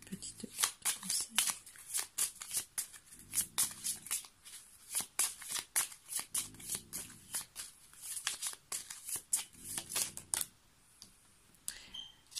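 Tarot advice cards are shuffled and riffled in rapid crisp flutters and snaps, with dense bursts continuing for about ten seconds. A voice talks intermittently over the card noise.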